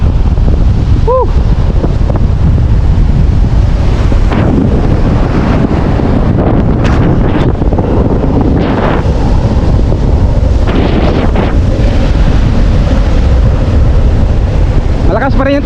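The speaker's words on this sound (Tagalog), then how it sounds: "Malakas pa rin yung tubig oh." Strong river water rushes loudly and continuously near the microphone, a dense roar with heavy wind buffeting, while people talk and shout intermittently over it.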